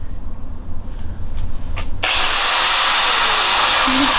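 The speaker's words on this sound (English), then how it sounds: "Neither of us have used an angle grinder before, so it's gonna be interesting, but I'm pretty sure, I'm gonna see if it spins first." An angle grinder, used for the first time while fitting an HKS turbo kit to a Subaru BRZ, switches on abruptly and holds a loud, steady high whine close by after a few soft handling sounds.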